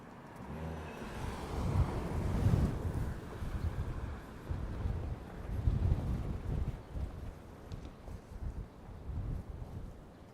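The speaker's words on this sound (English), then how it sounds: "Getting a little bit windy out here." Gusty wind buffets the microphone outdoors in Brookline and Boston in April, a low roaring rumble that swells and fades in waves.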